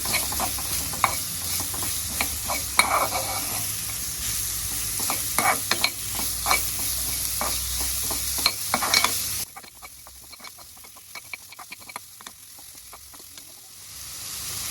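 Chopped raw mango being stirred in a frying pan for pickle, with repeated spatula scrapes over a steady sizzle that drops away abruptly partway through, leaving quieter scattered scraping; no one speaks.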